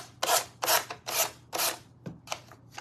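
Sanding the edges of a handmade Christmas ornament, a close, rhythmic rasp of about seven back-and-forth strokes, each a short scratchy burst, with no talking.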